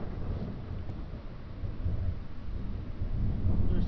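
Night thunderstorm over Odessa, Texas, with steady heavy rain hissing throughout and low rumbling thunder rolling underneath, swelling louder toward the end; no voices.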